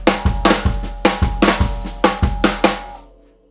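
A drum fill played on a kit with flam accents, the right hand ghosted and the left accented, repeats in close, loud grouped strokes with booming low hits before ringing out.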